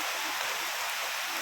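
Heavy rain pours steadily at a heritage temple in Bali, a dense, continuous hiss with no break and no voices over it.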